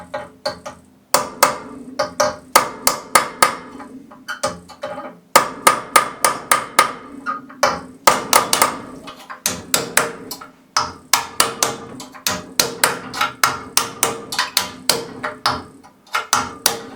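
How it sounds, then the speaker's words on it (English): Sharp metallic hammer blows on a punch ring out in quick bursts with short pauses between, loud and close, driving out a trailing arm bush on an Alfa Romeo 105 Series. "all you need is a decent hammer and a decent punch"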